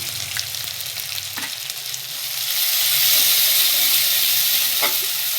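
Black mustard seeds, ginger and poppy seed paste sizzle steadily in hot oil in a pan, a loud continuous frying hiss that swells midway, with a few light stirring clicks.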